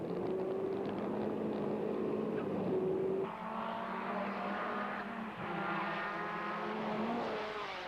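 Old rally cars from Finland rally footage, including a Lancia, roar steadily with droning engine notes that shift in pitch as they pass, loud and continuous with no talk.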